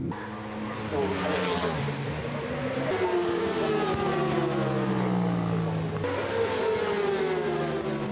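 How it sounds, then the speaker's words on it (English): Racing motorcycle lapping Cadwell Park circuit during British Superbike practice, its engine note climbing and falling in pitch as it passes, loud and continuous throughout. "We all went trackside to watch Joe spin up 5 practice laps"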